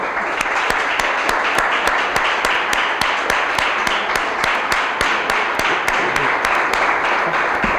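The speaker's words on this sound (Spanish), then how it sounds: "Un aplauso, por favor, a nuestra invitada Aurora Luque." A studio audience applauds a guest, Aurora Luque, with steady, dense clapping from many hands. The applause stays even and fairly loud throughout, with no voices over it.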